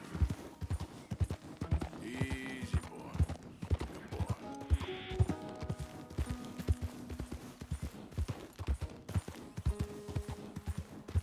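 Horse hooves galloping in Red Dead Redemption 2, a fast rhythmic clip-clop of hoofbeats running steadily throughout, with brief tonal game sounds and a short whinny-like call layered over it.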